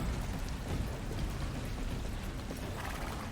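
Steady, dense rain hiss with a soft patter, constant and unbroken throughout, no voices; rain in the video game Star Stable Online.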